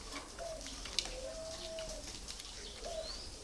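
Young hand-fed spotted doves at a bird farm give soft, faint coos and short calls against a low background hum, a few separate calls over a few seconds.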